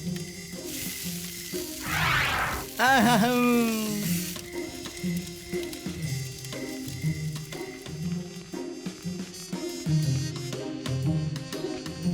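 Fish frying in a pan in an animated cartoon, a steady sizzle running throughout with a cartoonish sliding effect early on, mixed with background music and occasional voices.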